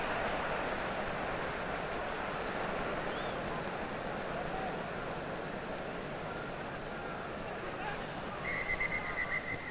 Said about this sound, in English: That's why the whistle has gone again.